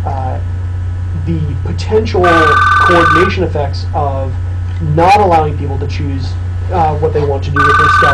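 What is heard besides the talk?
telephone ringing in office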